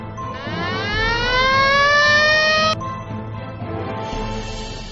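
A police car siren wails loudly close by, its tone rising steadily for a few seconds before cutting off abruptly, then starting again over a rumbling background.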